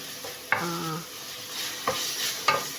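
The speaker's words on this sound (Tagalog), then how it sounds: "Haluin lang po natin yan para maluto po yung ating beef mince." Beef mince stirred while frying in a pan for Mongolian beef noodles, a steady sizzle with a few scraping stirs of the utensil against the pan, close and alone.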